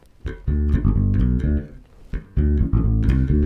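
A bass guitar plays a song's bass line, a loud, close run of punchy low notes in bouncing phrases with brief gaps, no talking.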